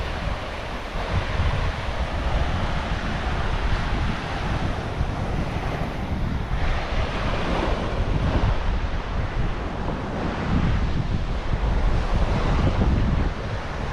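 Waves break on a Sri Lankan beach while strong wind roars across the microphone, a constant dense wash of surf rising and falling over the whole stretch, with no voices.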